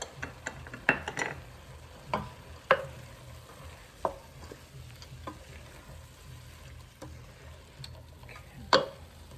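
A quarter cup of garlic cooking in a soup pot, a soft steady sizzle punctuated by scattered clicks and spoon taps on the pot, close and fairly quiet with no voices.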